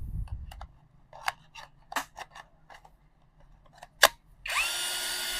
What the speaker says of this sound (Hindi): हेवी क्वालिटी का ड्रिल है, स्पीड कम ज़्यादा कर सकते हैं, रिवर्स और फ्रंट पे चला सकते हैं।